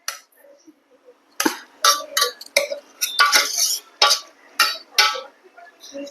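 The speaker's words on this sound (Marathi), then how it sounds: "आता याला थोडासा स्मॅश करून घेऊया." Boiled potatoes for ragda are mashed in a pot after pressure cooking, giving a series of sharp clinks and scraping knocks of a utensil against metal, irregular but fairly steady, close and alone.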